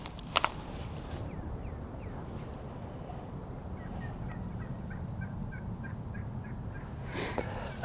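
Wild turkeys gobble at a dawn roost during a bowhunt. A loud close burst comes early, then repeated fainter gobbles follow from farther off over steady outdoor background noise.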